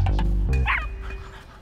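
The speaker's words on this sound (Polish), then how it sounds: "Jak się masz, piesku?" A cartoon puppy gives a few quick, close yips and barks in a short burst.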